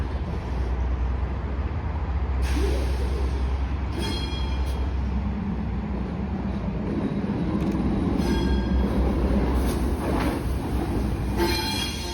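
An Amtrak extra train rumbles past steadily and loudly close by in Cambridge, wheels clattering and squealing on the rails throughout.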